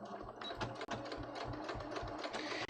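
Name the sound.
sewing machine edge stitching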